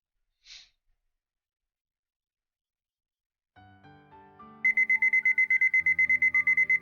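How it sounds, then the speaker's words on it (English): Alarm clock in the 9-nine- visual novel game, rising chime tones followed by a loud, rapid repeating beep pattern, close and alone after a short breathy sound at the start. "I wake up a few seconds before my alarm and stop it as soon as it rings"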